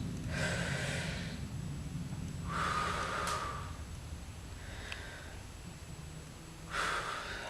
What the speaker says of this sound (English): your breathing is going to look like this.